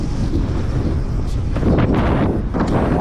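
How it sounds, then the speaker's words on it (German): Strong wind buffets the microphone outdoors at a gravel motorbike stunt shoot, a constant loud roar with heavier gusts swelling and rumbling through the low end. "Geht brutal der Wind, nicht?"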